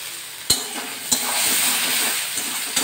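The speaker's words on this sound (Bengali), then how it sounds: "মাছ ভাজার তেলেই কিন্তু আমি পেঁয়াজগুলো দিয়ে দিলাম। পেঁয়াজগুলো যতক্ষণে ভাজা ভাজা হচ্ছে" Onions frying in oil left over from frying fish in a kadai, a close, steady sizzle with a few sharp spatula knocks against the pan and no talking.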